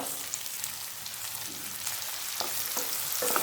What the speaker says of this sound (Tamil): 2 வெங்காயத்தை கட் பண்ணி வச்சுருக்கேன், அதையும் இதில் ஆட் பண்ணிக்கலாம்.